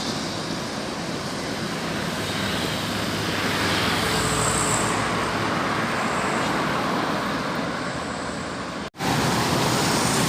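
A Bintang Utara bus rolls along the road in a convoy with a second bus, giving a steady, close, loud roar of engine and tyres that runs unbroken except for a brief dropout near the end.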